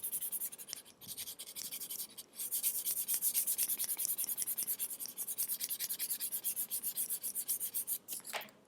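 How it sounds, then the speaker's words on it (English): Sandpaper rubbed along the edge of a leather passport holder, a close, steady series of raspy back-and-forth strokes in a quick even rhythm with short pauses and no talk. "you can go on to the second roughest sandpaper here."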